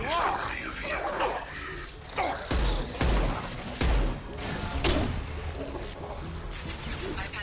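Combat in the video game Mass Effect with bursts of machine gun fire and heavy booming impacts, loud and dense over a continuous battle din, with voices speaking intermittently.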